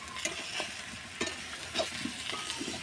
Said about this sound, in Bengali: 5 পিস মাছ দেবো, এই দিলাম, দিয়ে এবার ধীরে ধীরে কষে নিতে হবে।